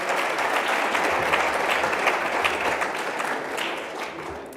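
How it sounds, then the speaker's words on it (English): Sustained audience applause for a minister at a CSIR technology launch event, a dense steady wash of many hands clapping that holds for several seconds and tapers slightly toward the end. "Another round of applause for our minister"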